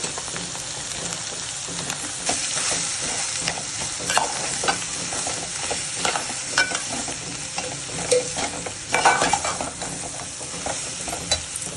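Potatoes and chilies frying in a pan with cumin, a continuous bright sizzle with repeated scraping and clinking of a spoon stirring throughout, fairly close and loud.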